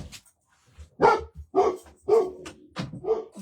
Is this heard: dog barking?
yes